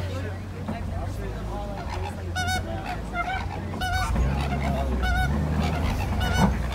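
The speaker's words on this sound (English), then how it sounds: "A group of greater flamingo like this is called a flamboyant." A flock of greater flamingos gives repeated goose-like honking calls at Kilimanjaro Safaris in Disney's Animal Kingdom, Orlando, with clear bursts at moderate distance over a vehicle's low rumble and a voice talking.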